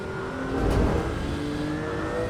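Porsche GT2 Clubsport race car engine in the Assetto Corsa EVO racing game, a steady loud drone that swells into a brief rev and then holds at a sustained, even pitch.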